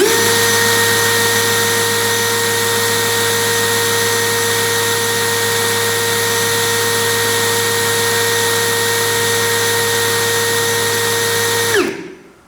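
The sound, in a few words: XAPR AP34 Pro cordless brushless drill running at speed 2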